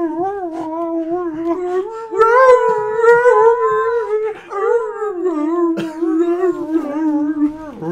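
A dog howls along to a song, long wavering tonal howls up close that rise and fall in pitch, with brief breaks between phrases.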